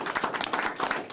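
A brief, fairly faint burst of audience applause at a teen center opening, quick scattered claps from a room of people.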